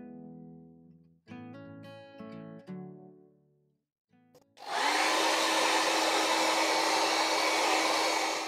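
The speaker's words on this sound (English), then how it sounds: "I've just run the hairdryer over that acrylic paint, and now it's completely dry" A handheld hairdryer blows a steady, loud roar over wet acrylic paint. It starts abruptly after a few seconds of sustained tones and runs on alone with no talking.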